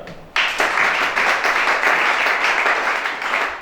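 A church congregation breaks into loud, sustained applause that starts abruptly and holds steady as a dense wash of clapping, with no voices standing out.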